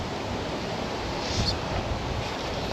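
Steady broadband wind at a riverside during a dry, blustery fly-fishing outing for trout and salmon, a constant rushing roar with slight gusts and no speech.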